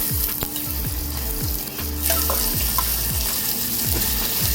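Pork frying in a pan with onion and garlic for pork pochero, giving a loud continuous sizzle with crackling bursts and occasional stirring noises, close by and with no speech.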